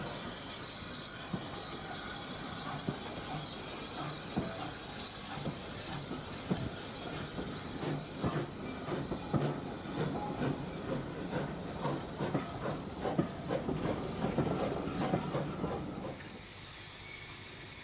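A model train runs steadily with a continuous rattling hum and faint hiss, clicking over track joints before the sound cuts off near the end.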